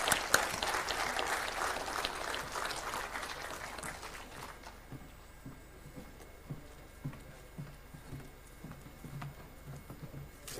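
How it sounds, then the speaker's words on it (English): An audience at a World Telecom Day panel claps for the panelists, loud and full at first, then thinning over about four seconds into scattered, fading claps and soft room noise. "Let us have a huge round of applause, ladies and gentlemen, for all the panelists in the house."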